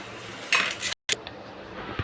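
A metal lid set down onto a cooking pan while sweet sheera (semolina halwa) cooks, giving a short clattering metallic clink followed by a brief second clank, close and fairly loud with no talking.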